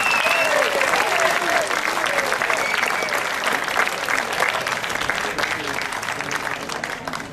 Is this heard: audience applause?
yes